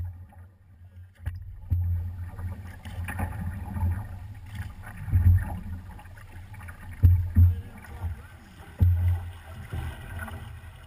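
A canoe paddle draws through the water in a few slow, soft strokes with gentle splashes and low swishing, light wind rumbling in the background.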